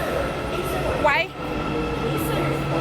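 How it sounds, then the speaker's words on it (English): A train rolls in at a Kuala Lumpur station platform, a continuous loud rumble with a brief rising squeal from the wheels and a voice speaking nearby. "Our train is here."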